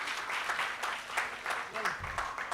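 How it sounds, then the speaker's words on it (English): Scattered, modest clapping from a seminar audience, soft and somewhat distant, with murmuring voices underneath. "If somebody welcomes, you have to clap at least."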